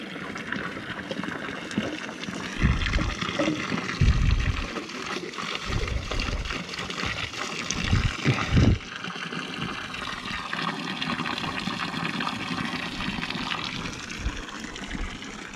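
Mountain spring water flowing at a refill point on the Tretes trail of Mount Arjuno-Welirang, a steady close trickling and gushing stream with occasional louder splashes, no talk.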